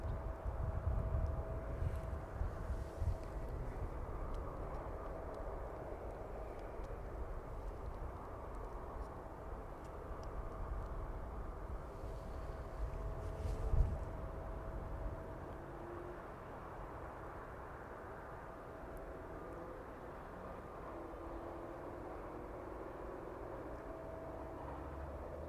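An Avro Vulcan taxis at East Midlands Airport, a distant steady jet rumble with a low roar and faint whine that stays level, with a small swell midway.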